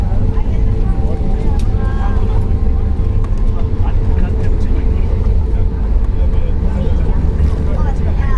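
A passenger airliner landing at Copenhagen, heard from the cabin as a loud, steady low roar and rumble throughout with rattling, and speech over it.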